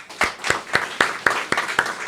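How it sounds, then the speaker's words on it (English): A round of applause for firefighters at a fire station ribbon-cutting ceremony comes through as steady, evenly spaced claps at about four per second, close and fairly loud. "Please give a round of applause for our firefighters who are here."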